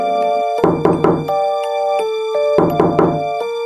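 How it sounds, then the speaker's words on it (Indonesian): Heavy pounding on a wooden door in a spooky narrated mystery story, two bursts of rapid loud thuds over a sustained musical drone, close and forceful. "kembali terdengar gedoran pintu"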